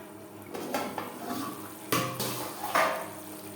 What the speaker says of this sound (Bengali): মশলা কষাবো লো টু মিডিয়াম ফ্লেমে।